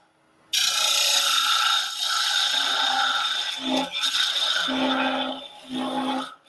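Chisel shearing wood on a lathe while turning a top, a loud continuous scraping, shaving hiss starting abruptly and running steadily with brief dips as the cut shifts, no talk over it.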